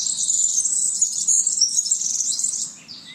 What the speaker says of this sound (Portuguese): Temos aqui milheirinha, pardal